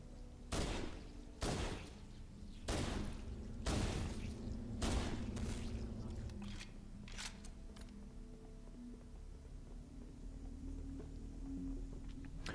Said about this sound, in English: So here, just start firing your pistol down the hallway.